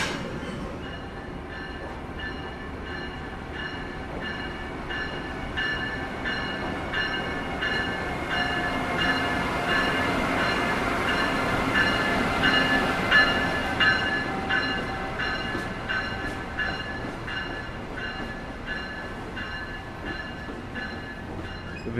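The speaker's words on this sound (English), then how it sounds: "The Virginia Railway Express train has returned to the station, now on its way to Fredericksburg" A Virginia Railway Express commuter train rolls through a station, a steady rumble of wheels on rails with faint high metallic squeals that swells toward the middle and eases off, heard alone without talk.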